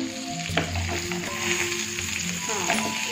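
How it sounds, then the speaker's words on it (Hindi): Stuffed karela (bitter gourd) sizzles steadily in a hot pan of oil, a continuous close crackle with faint soft tones underneath. "अब इसे टर्न करके हम दूसरी साइड से भी इसे फ्राई कर लेंगे।"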